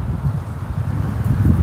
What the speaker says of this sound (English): Mahangin nga lang po. It's windy today again.